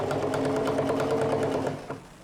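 A sewing machine stitching a polo shirt collar runs in a fast, steady needle rhythm up close, then slows and stops near the end.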